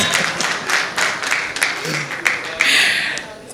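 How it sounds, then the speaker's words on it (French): Applause from an audience during a church-related talk show, a dense patter of clapping hands under a speaking voice, swelling briefly near the end. "il y a même des applaudissements"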